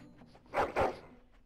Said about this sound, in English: this is a Mabari Warhound, and they are, like, beefy as heck with, like, massive teeth